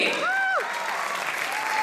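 A hall audience at a music competition prize distribution breaks into a short burst of clapping, loud and dense, with a brief tonal voice-like sound riding on top near the start.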